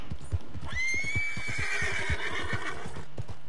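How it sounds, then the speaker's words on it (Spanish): Angry horse in a Western video game giving a loud rising neigh that trails off, over a steady clip-clop of hooves. "Uy, está el caballo cabreado, ¿qué le pasa?"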